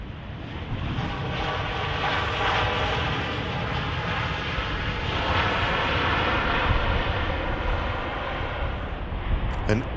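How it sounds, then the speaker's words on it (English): A departing aircraft at Manchester Airport roars as a broad, steady engine rumble and hiss held for the whole stretch at a fairly constant level, with no close talking. "an aircraft departing"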